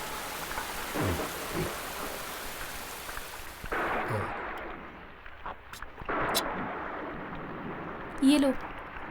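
Heavy rain pours steadily in a broadband hiss, broken by rumbling thunder claps around the middle and a sharper crack near the end, with brief voices in between.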